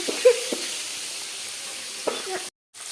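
Hilsa fish spatters in a pan of hot oil, a soft steady sizzle with a few sharper pops and clinks, close by, broken off abruptly near the end.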